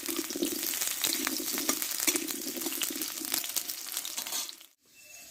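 Raw banana fritters frying in hot oil give a loud, continuous crackling sizzle with bursts of popping, close up, cutting off abruptly near the end.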